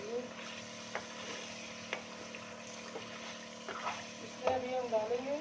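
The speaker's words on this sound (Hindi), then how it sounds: "ज़बरदस्त हमारी चिकन फ्राई हो रही है।" Chicken frying in a pan for chicken nihari: a low, continuous sizzle with occasional sharp utensil knocks against the pan, close and quiet, growing busier with stirring near the end.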